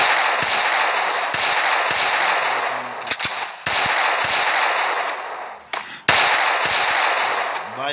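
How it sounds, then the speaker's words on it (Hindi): Repeated shotgun blasts in the Free Fire battle-royale game, loud sharp reports arriving every second or so with short gaps, close and dominant over continuous game noise, no talking. "अब शॉटगन लेके आया भाई"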